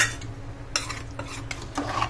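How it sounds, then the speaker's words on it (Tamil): A spoon stirs rice and water in a pot for soya biryani, giving close, quiet scraping and swishing strokes in an irregular rhythm with no talking. "நல்லா கலக்கணும்."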